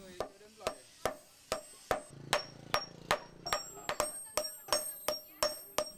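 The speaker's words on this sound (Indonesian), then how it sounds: "Setelah pijar, besi pun kembali ditempa dengan palu" A hammer forges glowing hot iron into a Bengkulu machete, striking in a steady, fast rhythm of sharp metallic blows, about a dozen in a row, close and ringing.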